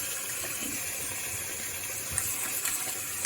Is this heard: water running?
yes